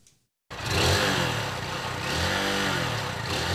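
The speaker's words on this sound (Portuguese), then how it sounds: "Quando esta moto arranca" After a moment of near silence, a motorcycle engine starts up and pulls away with a loud, close, rising rumble that holds steady and then swells again as it accelerates.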